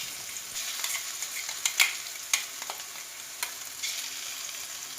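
Ground masala paste fries gently over low gas in a pan, a soft, close sizzle with scattered pops and a few sharper stir clicks, quiet overall with no speech.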